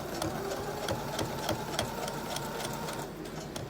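Home sewing machine running steadily as it stitches elastic into a 3D fabric face mask, a close, even mechanical whir with rapid regular needle taps, then slowing near the end.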